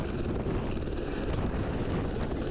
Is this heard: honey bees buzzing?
no